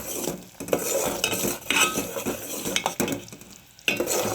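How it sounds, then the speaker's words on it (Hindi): Jaggery and ghee are stirred in a pan, with a spoon scraping and clinking against the metal in irregular strokes over a soft sizzle, close and fairly loud. "गुड़ को बीच बीच में चलाते रहने का, नहीं तो गुड़ जल जाएगा।"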